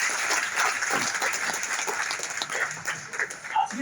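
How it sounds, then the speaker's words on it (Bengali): Scattered clapping from an audience at a company meeting, moderately loud and fairly steady, with a few sharper claps standing out near the end. "আমরা এখন জয়দার জন্য একটা করতালি করতে চাই না?"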